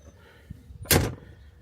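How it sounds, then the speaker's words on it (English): A car door with a door organizer bag fitted swings shut with a single short solid thunk, preceded by a faint click, close and clear with no talking. "Doors close."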